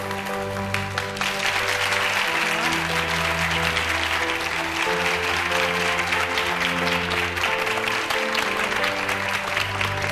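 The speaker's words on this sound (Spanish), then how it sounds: "Un fort aplaudiment" A TV studio audience applauds as a singer is welcomed, with steady clapping throughout and pop music playing underneath.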